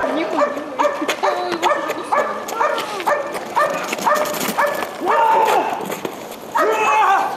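Trained service dogs at a training session bark loudly and close by in a rapid, repeated volley of sharp barks that continues throughout.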